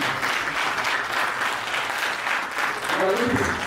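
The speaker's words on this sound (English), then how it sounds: "Give a clap offering to Engineer Kaka." A crowd at a blockchain policy dialogue applauds steadily and energetically for several seconds, dense clapping at even loudness with a voice briefly audible near the end.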